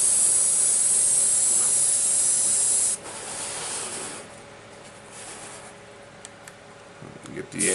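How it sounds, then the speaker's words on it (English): Airbrush or spray can hissing steadily as light weathering dust is sprayed onto a Union Pacific SD70 model locomotive, including trucks and fuel tank; a loud continuous hiss for about three seconds, then quieter intermittent spraying, with talk over it. "Lightly spray this side here. Nice even light coat."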